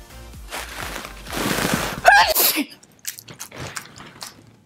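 A single loud, close sneeze bursting out after a rising breathy intake, followed by faint shuffling and small sounds.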